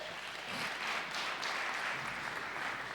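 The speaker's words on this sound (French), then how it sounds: "Applaudissons pour eux, s'il vous plaît." An audience at a French-language church leadership talk claps for a group of people in their twenties, a steady, moderate wash of applause held evenly for a few seconds.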